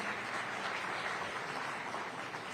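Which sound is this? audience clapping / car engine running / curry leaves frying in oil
audience clapping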